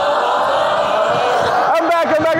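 A live event audience performs an Amsterdam wave, a continuous crowd roar that swells into rhythmic, pulsing cheers and whoops near the end.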